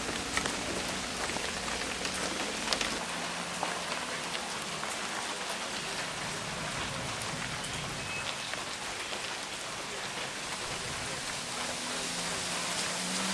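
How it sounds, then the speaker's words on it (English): Steady rain falls in a close, continuous hiss of drops striking surfaces, even and unbroken throughout, with no voices. "now with the rain, it's 68"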